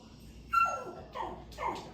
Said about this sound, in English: Bear with my dog. She's jealous because we actually have a puppy